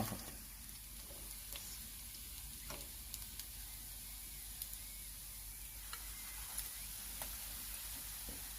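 Fish, freshly caught from a sand pond, frying in hot oil with a steady soft sizzle and occasional pops, fairly quiet and with no one talking.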